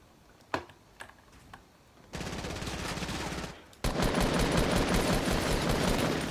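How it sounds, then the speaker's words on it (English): Gunfire in a video game: a few isolated clicks, then a long dense burst of rapid automatic fire that pauses briefly and resumes louder and sustained until the end. "Why are you shooting me?"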